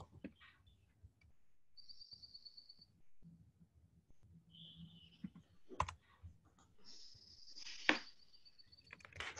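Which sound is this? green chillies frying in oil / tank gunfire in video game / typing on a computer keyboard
typing on a computer keyboard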